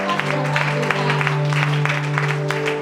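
A church congregation claps in acclamation, a steady, fairly loud wash of applause over a sustained tonal musical drone.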